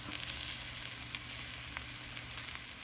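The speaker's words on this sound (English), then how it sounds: "So next step, I put the coconut milk." Coconut milk, about two cups, is poured into a hot pot where rice and beans are being fried, setting off a steady close sizzle with faint crackling pops.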